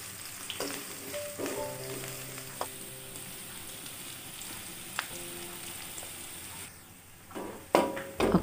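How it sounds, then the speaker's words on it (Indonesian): Onion or garlic sizzles steadily in a small amount of oil, a continuous close crackle with occasional clinks of a utensil against the pan, ending in a few louder stirring scrapes. "goreng sampai kelihatan menguning seperti ini ya teman-teman"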